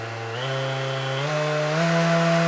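A Festool ETS EC 150/5 orbital sander runs at its highest setting, giving a steady close motor whine with a stable tone that steps up slightly in pitch as it settles, with no talking over it.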